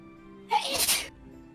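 A single sharp sneeze, close and loud and about half a second long, breaks into a quiet indoor tabletop game session.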